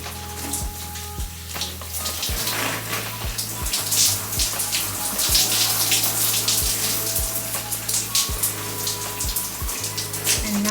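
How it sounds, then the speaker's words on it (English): Running water splashes steadily from a tap as a deep conditioning mask is rinsed out of natural hair, a continuous watery hiss with close spattering and soft thumps, no talking. "I'm gonna take off the cap and go wash out the mask"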